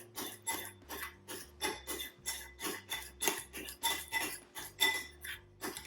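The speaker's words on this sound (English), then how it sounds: "then we're gonna take a scoop of sour cream and just mix it in" A spoon stirs sour cream into spicy chipotle aioli in a bowl, with rhythmic, regular scraping and clinking strokes against the dish, close and fairly quiet, with no talking.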